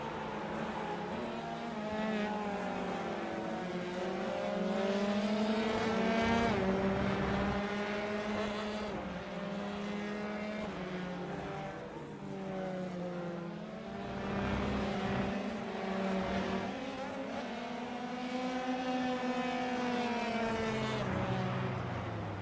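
Formula 3 race cars lapping in a racing video game, high-pitched engines whining and shifting through gears as several cars rise and fall in pitch, continuous and fairly loud without talk.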